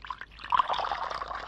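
Hot water is poured in a short steady trickle, close and clear, with no talk.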